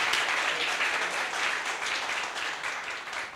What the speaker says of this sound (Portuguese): Agora sim, uma salva de palmas